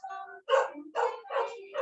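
Dog barking nearby indoors, a run of four or five sharp barks in quick succession, loud and close, with no other sounds around them.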